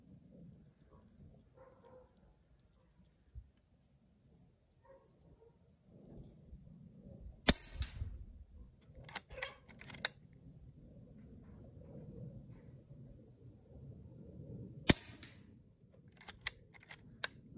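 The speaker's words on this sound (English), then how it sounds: "let me put a couple shots into the paper to figure out where I'm hitting and we'll put two in the gel" Two sharp .22 caliber air rifle shots into a paper target, isolated cracks about seven seconds apart, each followed by a few smaller clicks and knocks over a low background rumble.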